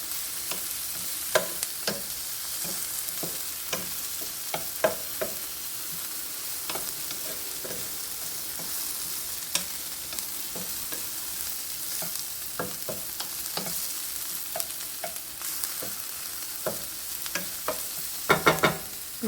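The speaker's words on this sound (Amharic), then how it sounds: "እችን በደንብ አርጌ ጥብስ አርጌ ቆላታለሁ።" Garlic fries in a pan with a constant soft sizzle, dotted with frequent sharp clicks and scrapes of stirring, close by and steady over a long stretch without talk.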